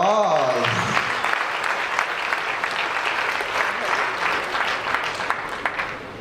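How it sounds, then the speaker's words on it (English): A conference audience breaks into loud, sustained applause after a hardware talk, dense clapping filling the room from start to finish following a brief opening sound. "All right, a round of applause."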